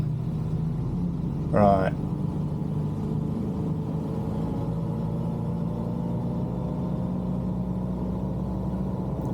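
A motorcycle engine labours in first gear up a steep incline on the A169 road toward Whitby near York, a steady low drone throughout with a brief spoken word near the start.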